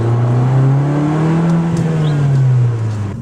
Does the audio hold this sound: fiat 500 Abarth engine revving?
yes